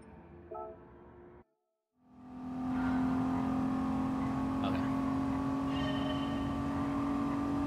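Race car engine in the Gran Turismo Sport video game, silent for a moment before a loud, steady drone rises and holds at high revs to the end, with a brief voice near the start.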